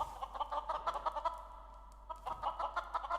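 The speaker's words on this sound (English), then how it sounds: "Distant clucking." Chickens in the game Minecraft cluck in rapid, bubbly bursts, a busy cluster of calls, a brief lull, then more clucking resuming.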